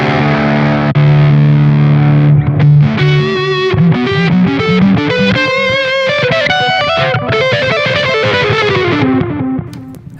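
Electric guitar run through the Squeak distortion model on a Zoom G3X HD multi-effects pedal, with analog delay and spring reverb, playing a sustained chord and then a melodic lead line, loud and up close, with no talking.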